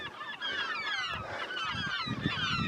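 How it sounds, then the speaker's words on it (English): A duck takes flight near a seabird nesting island, giving loud, rapid honking calls in a close, continuous series. "Another duck on the wing."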